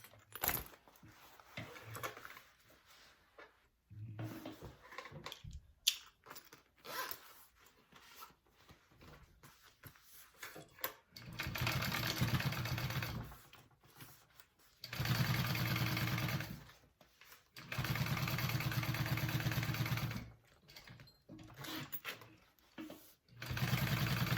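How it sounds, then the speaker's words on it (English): A sewing machine top stitches a bucket bag in several bursts of steady whirring, separated by pauses filled with quiet handling and rustling of fabric nearby. "I'm just going to top stitch along this"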